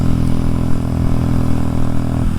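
A KTM 890 Duke motorcycle rides along back roads, its engine holding a steady, loud mid-pitched drone close by for a couple of seconds, with a slight drop at the end and no talk.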